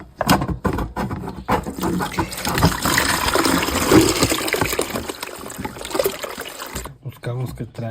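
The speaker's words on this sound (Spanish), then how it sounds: "Ahora vamos a sacar esta agua que nos queda aquí, desconectando la manguera de la bomba de agua." Water draining out of a washing machine pump hose, a steady gushing, splashing flow lasting several seconds before cutting off, with faint background noise and a brief voice near the end.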